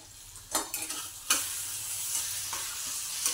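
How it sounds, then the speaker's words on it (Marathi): A vegetable dish with chilli and salt sautéing in a pan, a steady sizzle broken by several sharp scraping stirs of a spoon against the metal, close and clear with no voices. "आता हे चांगलं परतून घ्यायचं."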